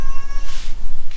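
A cat meows loudly and close in a garage, one drawn-out cry followed by a shorter second call, with no talk.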